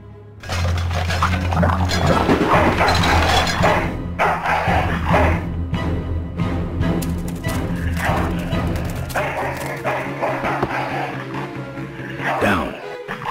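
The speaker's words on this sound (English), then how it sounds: "That's one ill-tempered mongrel." An ill-tempered dog barks and snarls in the adventure game Full Throttle Remastered, sounding through loud game music and crashing effects, with repeated yaps and whimpers throughout.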